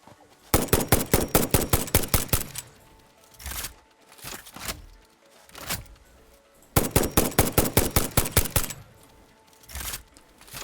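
Gunfire aimed at a spider in Satisfactory, two long rapid bursts of evenly spaced shots, loud and close, with scattered single shots and quieter game sounds between them.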